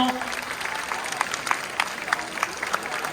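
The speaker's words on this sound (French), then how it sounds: "On va applaudir les équipes de partout." Half-time applause from spectators at a RoboCup humanoid KidSize final, scattered claps rising over a steady crowd murmur, moderately distant, with a commentator's voice running over the noise.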